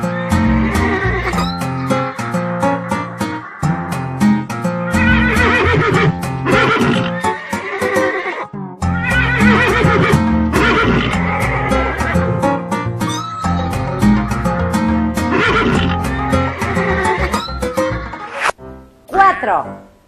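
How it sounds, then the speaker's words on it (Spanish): Horse neighs and whinnies ring out loudly and repeatedly over a children's numbers program, layered with bright musical backing throughout. "3 caballos."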